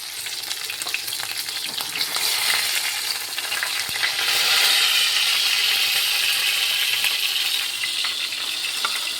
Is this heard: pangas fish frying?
yes